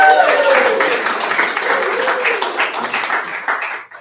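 Applause from a pub audience at a poetry reading rolls on loud and close, many hands clapping steadily beneath a voice heard over the start, tapering off at the end.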